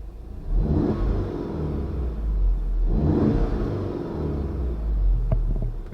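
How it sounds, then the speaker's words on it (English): Volkswagen MK7 Golf engine revving as the gas pedal is pressed, a loud, close rumble rising in two swells over a steady idle drone, with no talk. "so I'll step on the gas a little bit"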